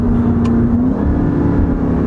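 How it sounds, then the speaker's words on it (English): A supercharged 2018 Jeep Grand Cherokee Trackhawk with 645 lb-ft of torque pulls hard in manual mode. Its engine gives a loud, close, steady roar that climbs slightly in pitch, with no voices over it. "That supercharger sounds unbelievable."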